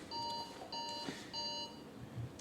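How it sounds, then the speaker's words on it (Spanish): An electronic alarm beeps in three steady, evenly spaced pulses, fairly loud and alone. "Esta es la alarma."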